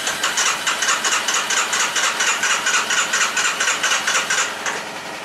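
A car engine on choke runs in the snow just after starting, a loud, close, fast rhythmic chugging pulse that holds steady for several seconds before easing slightly at the end.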